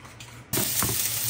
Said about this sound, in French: on va faire revenir les oignons dans un premier temps